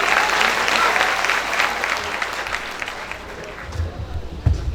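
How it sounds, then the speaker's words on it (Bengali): An audience at a speech event bursts into loud, close applause that slowly thins out over a few seconds. "একটা হাততালি দিয়ে দাও বসে পড়ে"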